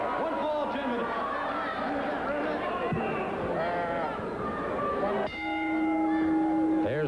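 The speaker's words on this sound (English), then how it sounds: "There's the bell." A wrestling ring bell rings to open a one-fall, ten-minute heavyweight bout, giving a sustained clear metallic tone near the end over constant crowd chatter and murmuring voices.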